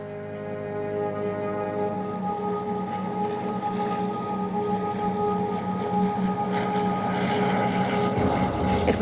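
A low-powered propeller plane on a short airstrip in 1938 drones steadily, its layered engine hum building slightly over several seconds. There is no talking.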